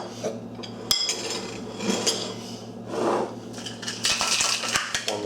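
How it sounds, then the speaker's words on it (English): A glass rim pressed and twisted in jalapeno sea salt on a plate, giving a close, gritty scraping and crunching with a few sharp clinks of glass on ceramic, louder bursts near the end. "I'm gonna pick up that jalapeno sea salt with my glass, get it nice and coated all the way around."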